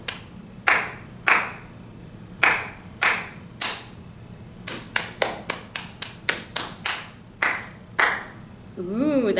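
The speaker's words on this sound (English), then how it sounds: "So for big black cats, we're clapping, and for running, running, we're tapping our legs." Steady rhythmic pattern of sharp hand claps mixed with softer taps on legs during a first-grade music lesson, clear and close, with no talking.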